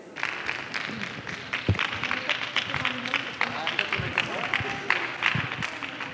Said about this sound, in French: Les applaudissements retentissent.